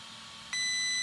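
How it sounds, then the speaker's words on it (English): An Arrma Vorteks 3S 4x4 RC car's electronic speed controller gives one long, steady high-pitched electronic beep, holding for about half a second, loud and alone over quiet background hiss. "Once it's there, then you hold down the set button, you hear a long beep."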